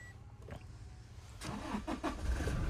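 A Toyota car engine cranks and catches, a faint steady hum rising to a louder churning turnover and rough start near the end, with no voices.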